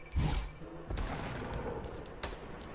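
Video game gunfire: a burst of sharp shots at the start, another strong blast about a second in, then a later single report over a continuous rumbling background.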